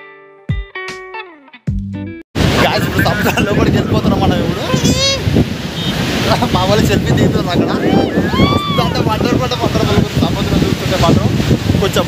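Ocean waves wash onto a beach in Goa, a steady, loud, windy roar that buffets the microphone. People talk over it, and brief tones open the clip.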